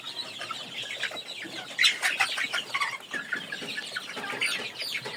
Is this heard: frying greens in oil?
no